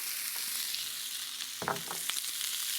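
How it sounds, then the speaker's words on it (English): Ground chicken and chopped green beans, seasoned with salt and white pepper, frying in high-temperature oil; a steady soft sizzle with a brief burst of louder crackling and stirring midway. "while that's cooking out in high temperature oil"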